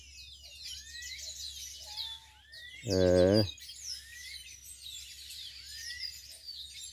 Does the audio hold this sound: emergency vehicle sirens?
no